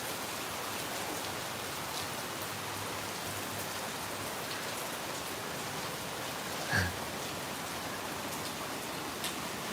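Steady rain falls continuously, a broad even hiss with a brief louder splash or thump partway through, during the rainy season in Phnom Penh.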